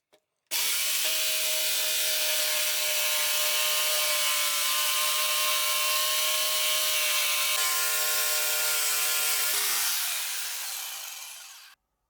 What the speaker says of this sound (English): So let's try to cut this.